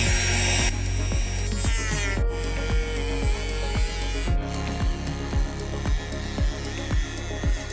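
A power tool trims a plastic cover during a high winch mount install on a new Ford Bronco, running loud and close with a steady whine and repeated rhythmic bites as the cut progresses.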